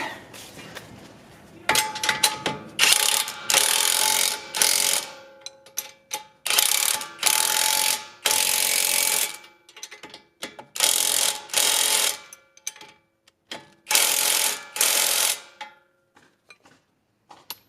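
Cordless Milwaukee impact gun tightening strut nuts on a Honda CR-V, loud close bursts of rattling hammering repeated in short runs with pauses between, alone without talk.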